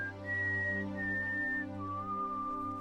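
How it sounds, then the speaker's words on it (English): A lone person whistles the four-note mockingjay call from The Hunger Games, clear sustained pure tones stepping between pitches over a low background hum, with no talk. "an old man in the audience whistles the melody"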